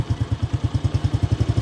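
A used motorcycle engine runs close by with a steady, even thumping exhaust pulse at a regular rhythm, loud and alone with no talking over it.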